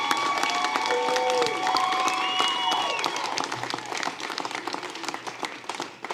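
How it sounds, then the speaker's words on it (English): A crowd gives a campaign manager a round of applause at a state Senate victory gathering, steady clapping with a few whoops and whistles for about six seconds, fading slightly toward the end. "I want y'all to give her a round of applause."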